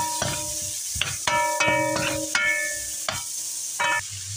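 Butter sizzles in a frying pan with onions while pork kaldereta is being cooked, a steady close hiss broken by several sharp scrapes and clinks of stirring.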